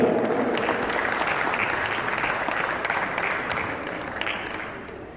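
An audience at a Pakistan Day ceremony gives the chief guest a full round of clapping, dense and steady at first, then gradually thinning and fading over about five seconds.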